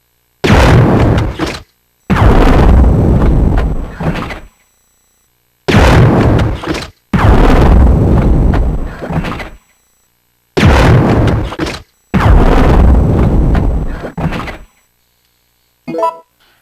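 Flame rounds fired from the grenade launcher in Resident Evil 3: Nemesis, three pairs of loud whooshing bursts, each pair a short blast followed by a longer roaring flame, separated by brief silences, with no talk.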